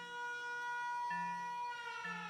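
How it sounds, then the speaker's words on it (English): An air raid siren alarm in the video game Factorio, a steady electronic wail of stacked tones with a low pulse that switches on and off, playing alone without talk. "Oh, they have an air raid siren too."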